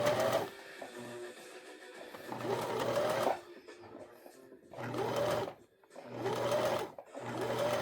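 A sewing machine stitches in several bursts of steady mechanical whirring, each lasting about a second, separated by short pauses, close and fairly loud with no talking.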